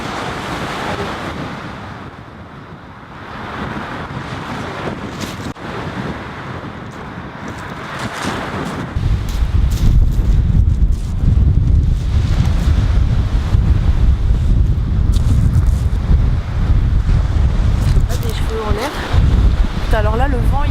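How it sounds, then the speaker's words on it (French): Wind blows outdoors straight into the microphone, a rough rumbling buffet that swells loud and heavy after the first few seconds, with brief voice sounds near the end. "Alors là le vent il est pas très, c'est pas mon ami."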